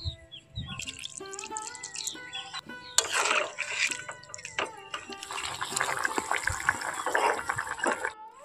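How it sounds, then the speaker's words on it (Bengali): Water is poured into a pan while drumstick curry cooks, with splashing and trickling alongside sizzling, clinking, and bright dripping sounds, close and moderately loud in a kitchen. "এখন এর মধ্যে আমি জল অ্যাড করে দেব।"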